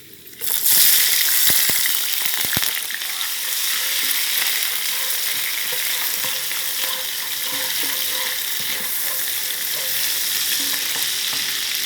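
Shrimp with garlic and chili stir-fried in a hot pan, a loud continuous sizzle that flares suddenly as food hits the oil, a few clanks of the utensil early on, then steady frying close by with no talking.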